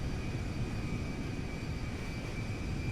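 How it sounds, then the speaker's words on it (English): Airbus A310-300 airliner engines in GTA 5, a steady broadband roar with a faint high whine, continuous and fairly close throughout, no talk. "This is a nice airplane to have as a freighter."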